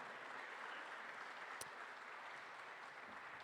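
Applause from a conference plenary audience welcoming guests onto the stage, faint and steady, with one brief sharper knock partway through.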